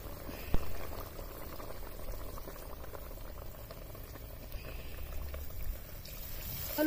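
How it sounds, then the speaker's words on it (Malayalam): First coconut milk is poured into a vigorously boiling tangy fish curry of freshwater murrel, giving a steady dense bubbling simmer throughout with a small knock early on. "ഒന്നാം പാൽ ഒഴിച്ചു കൊടുക്കാം."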